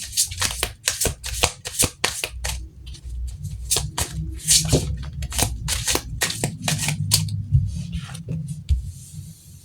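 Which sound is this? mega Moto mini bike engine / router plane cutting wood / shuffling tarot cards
shuffling tarot cards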